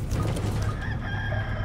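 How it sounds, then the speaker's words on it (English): Chickens cluck and crow in a video game, a brief dense burst of fowl calls over a low steady game background hum. "Chickens."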